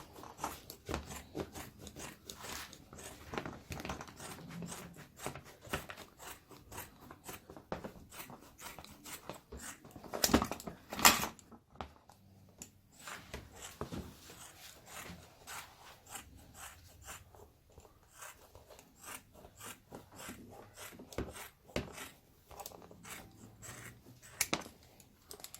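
Scissors cutting slipper footbed material at home: continuous faint, close snipping and crunching cuts in an irregular rhythm, with one louder burst partway through.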